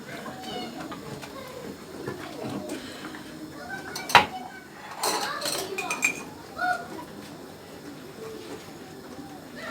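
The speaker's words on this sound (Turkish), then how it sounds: "Kayınvalidem de elde devam ediyor yıkamaya" Dishes clink and clatter in water as they are washed by hand, with a couple of sharp knocks, voices talking nearby and birds cooing faintly.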